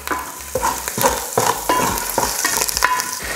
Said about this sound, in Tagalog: Igigisa ko lang itong bawang hanggang sa mag-light brown na yung kulay.